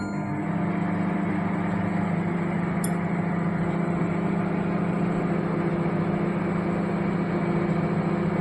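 A microwave oven running at 900 watts on its micro setting gives a steady, loud hum with a constant mechanical drone and a faint high whine, unbroken throughout except for one brief click.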